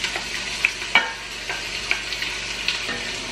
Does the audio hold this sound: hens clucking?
no